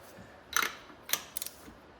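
A torque wrench is checked on a John Deere mower spark plug: a few faint, short metallic clicks and ratcheting ticks in quick bursts, close up in a quiet space.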